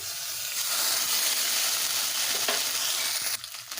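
A paste of ginger, cumin and dried chili sizzles in hot oil after the tempering spices, a loud continuous hiss with a few stirring knocks, dropping sharply near the end.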